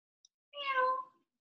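A single drawn-out meow, close and fairly quiet, rising then fading in isolation; it sounds like a human voice imitating a cat rather than an actual animal.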